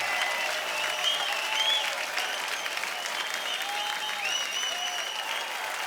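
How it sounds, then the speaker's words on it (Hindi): A studio audience at a comedy talk show claps loudly and continuously, with dense applause and scattered whistles and cheers filling the room throughout. "जोरदार तालियां एक बार।"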